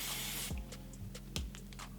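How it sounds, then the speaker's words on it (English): Makeup setting spray is misted onto a face in one short, soft hiss, followed by faint handling taps and rustles, with no voices. "So I'm just gonna spray a little on right now"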